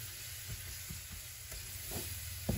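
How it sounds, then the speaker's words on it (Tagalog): Pork leg (pata) for kare-kare sautés in a pan with a steady, even sizzle and soft stirring scrapes throughout, close by and with no speech. "Ayan yung pata. Gisa."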